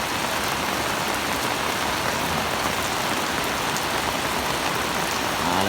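Rain pours steadily onto a flooded road, making a dense, even hiss and patter that stays constant and close throughout, with no talking.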